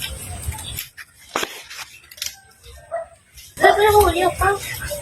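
A dog barks and yips in short bursts amid outdoor background noise, with people talking nearby.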